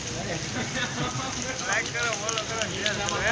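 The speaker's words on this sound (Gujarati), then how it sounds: "હજી વરસાદ શરૂ જ છે।" Steady first-monsoon rain hisses in the background while voices talk over it, with traffic jammed nearby.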